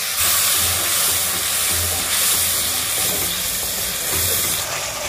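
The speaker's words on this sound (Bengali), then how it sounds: "আমি এবার সামান্য একটু জল দিয়ে মশলাটাকে কষিয়ে নেব।" Ground masala with red chili powder sizzles loudly in a pan after a splash of water is added, a dense continuous close hiss and crackle with faint stirring underneath and no talking.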